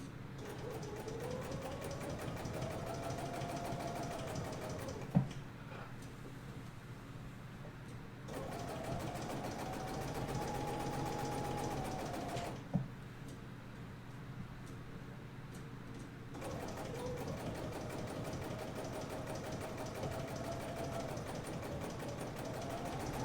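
A Bernina sewing machine stitching in two long runs of rapid, even needle rhythm, near and fairly quiet, each run followed by a pause and a sharp click.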